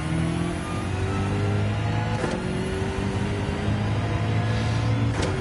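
Honda NSX race car in a racing video game, its steady engine drone and whine holding throughout with a couple of brief sharp transients, moderately loud and alone.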